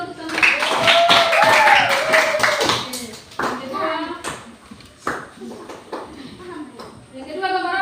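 Elementary school classroom children clapping together for a classmate, a dense burst of hand claps that fades after a few seconds, followed by a teacher's voice and children's voices talking.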